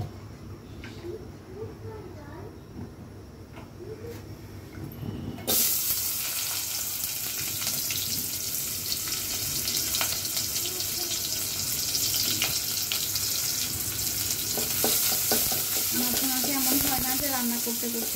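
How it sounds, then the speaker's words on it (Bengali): Onions frying in a small amount of soybean oil, a steady sizzle that jumps louder after a few seconds and carries on with occasional stirring clinks, under faint household background sounds. "খুবই অল্প পরিমাণে তেল দিব, আমি এখানে সয়াবিন তেল ব্যবহার করছি, জাস্ট পেঁয়াজটা পুড়তে যতটুকু তেল লাগবে আর কি।"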